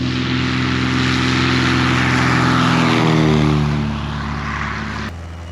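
A light propeller airplane drones steadily in flight on the approach into the Oshawa control zone, a loud, even engine hum whose pitch eases downward midway before the sound cuts off abruptly near the end.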